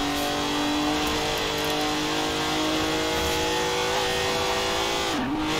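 Lamborghini Diablo GTR in Forza Horizon 4, its engine held at a loud, sustained high-rev drone while cruising at speed, with a brief dip in pitch near the end.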